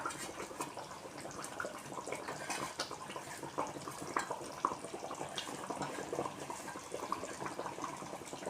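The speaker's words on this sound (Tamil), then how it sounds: "அந்த வறுத்த எண்ணெயை இதில் ஊற்ற வேண்டியதான்." Fried tempering oil poured into a simmering egg curry (muttai kuzhambu) gives a steady, soft liquid sizzle and bubbling hiss with small crackles, moderately quiet and close, with no talk.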